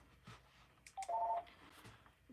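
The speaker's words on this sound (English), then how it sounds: "I must get the phone." A telephone rings with one short electronic tone burst, moderately loud against a quiet room with faint background noise.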